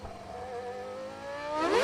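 Mika Häkkinen's McLaren Formula 1 car at the 1999 Spanish Grand Prix screams past on its final lap, a single steady high-pitched engine whine that climbs sharply and grows louder near the end.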